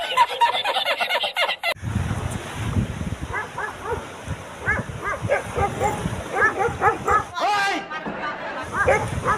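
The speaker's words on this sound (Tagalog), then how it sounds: "Nako, may mga aso." Several dogs bark and yip repeatedly at a seaweed harvest site in Barangay Lipanto, sharp overlapping barks at close to moderate distance on a windy day, with a person talking among them.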